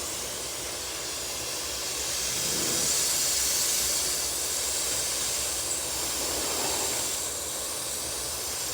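Paint spray gun set to a fine airbrush mode, a steady soft hiss of air and paint that swells slightly in the middle, close by and alone.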